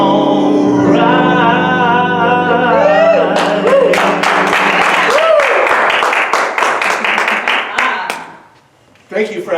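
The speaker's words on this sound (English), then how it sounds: "Thank you for actually clapping your hands" A church congregation at a Sunday celebration service claps along, first under sustained singing and music, then in a burst of loud, distinct handclaps that thin out and fade before a brief swell at the end.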